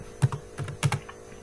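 Typing on a computer keyboard, three short clusters of soft clicking keystrokes in a loose rhythm, close and quiet, with no voice.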